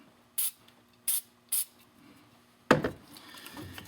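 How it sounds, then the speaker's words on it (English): Lubricant is sprayed into the end of a radiator hose for a 2000–2003 Dodge Durango 4.7L: three short, sharp aerosol bursts close to the microphone, then a longer hiss with a faint rustle afterward. "So just spray a little bit into the end of the hose."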